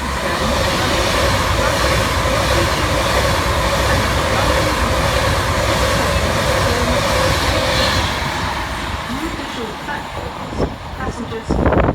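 An East Midlands Railway Class 175 diesel train departing Crewe station on the far side, a steady rumbling roar under a station platform announcement, easing off toward the end.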